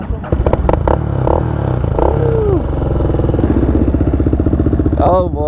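A Honda 400 quad starts with a few clattery cranking attempts, then the engine catches and settles into a loud, rapid, pulsing idle close by. Voices talk over it.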